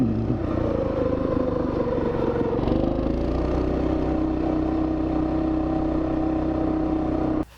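Small Coleman mini bike engine with the throttle stop screw pulled back, revving steadily and loud for about seven seconds, a continuous buzzing drone with a slight pitch rise partway through, cutting off at the end.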